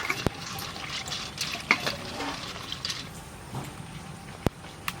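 Heavy rain pours down in a rural village on a rainy day, a steady, dense hiss broken by a few sharp close drips and clicks.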